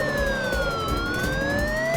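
A police siren wails in a toy-car racing video game, its tone sweeping slowly down and back up in a clear, steady electronic howl over a low engine-like rumble, with no talking.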